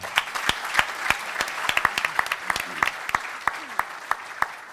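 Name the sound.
audience applause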